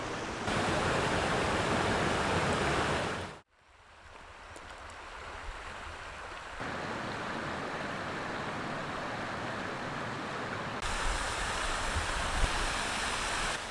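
A waterfall and river in a mountain valley give a loud, dense, unbroken roar of rushing water, briefly cut off once before resuming steadily and slightly softer, then swelling again.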